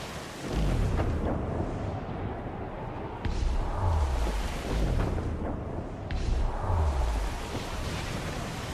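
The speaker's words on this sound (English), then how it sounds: "The fire ship's about to blow!" A fire ship blows up during a naval battle in the pirate game Assassin's Creed IV Black Flag, giving deep booming explosions over a steady roar of sea and wind, with several heavy thuds rolling through the scene.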